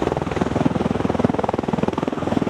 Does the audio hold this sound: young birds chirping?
no